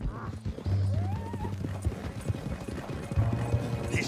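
Horse hooves clip-clop steadily at close range in Red Dead Redemption 2 while a captive rides tied up on horseback, with low rumbling ambience and a brief whinny-like tone partway through.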